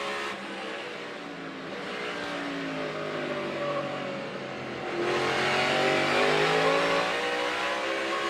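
Race car engine at a NASCAR-style stock car event during practice, droning loud and steady with a rise in pitch and volume midway as it downshifts under braking, heard alone without talk.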